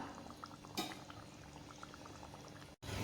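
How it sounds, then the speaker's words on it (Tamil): A pan of thick fish kurma bubbles and simmers steadily at close range, with soft popping and a brief clatter near the end. "ஸ்டவ் சிம்மில் வச்சு குருமா கொதிக்கிற அளவுக்கு வச்சுக்கலாம்."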